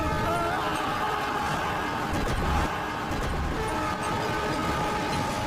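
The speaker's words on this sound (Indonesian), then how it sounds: "Rupanya kereta itu lewat di rel sebelahnya" A train rolling past on the tracks, loud and continuous, with heavy rumbling, clattering wheels and a sustained tonal whine over the noise.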